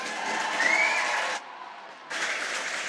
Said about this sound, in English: First of all, let's get a huge cheer for Pres.